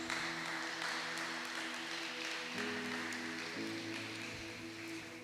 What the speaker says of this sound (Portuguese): dando uma salva de palmas ao Senhor Jesus